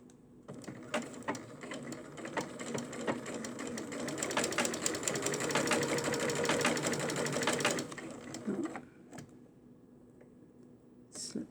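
A sewing machine runs steadily stitching a hem on small doll clothes, a fast rattling mechanical whir with rhythmic needle ticks for several seconds, then slowing to a few isolated clicks near the end.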